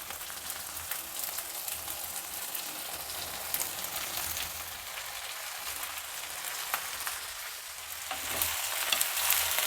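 Squeezed, water-soaked brinjal pieces fry and sizzle steadily in hot oil in a pan for vangibath, a continuous crackling hiss with occasional stirring, close up and without talk.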